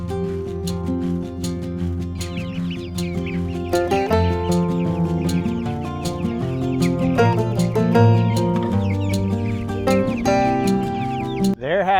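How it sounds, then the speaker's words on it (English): Cornish cross meat chickens out on grass cluck and chatter close by, many overlapping calls in a busy, continuous flock murmur with sharper clucks popping through. "The meat chickens are getting to the gross looking phase. They don't feather out a lot because they're Cornish cross."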